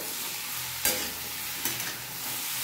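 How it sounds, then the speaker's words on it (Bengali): Mixed vegetables with turmeric and salt are stirred in a frying pan, a continuous loud sizzle with two brief scraping knocks of the spoon, no voices. "আমি আমার পরিমাপ মতো আমি হলুদ দিয়ে দিয়েছি, আর নুন। ভালো করে নেড়ে দিন"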